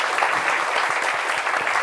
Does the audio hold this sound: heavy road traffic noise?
no